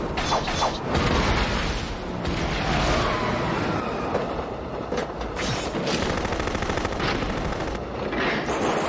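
Loud, dense bursts of gunfire crackle almost continuously, rapid shots overlapping with booms and rumbling for several seconds.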